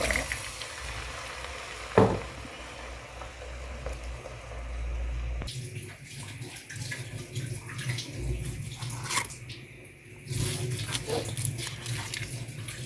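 Water pours steadily nearby from a mug, a continuous splashing gush that shifts in tone partway through.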